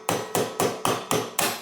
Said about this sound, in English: Give it a little whack with the hammer.